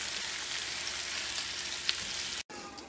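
Cajun chicken pieces frying in a pan after being turned, giving a steady, even sizzle that hisses at moderate volume before briefly cutting out near the end.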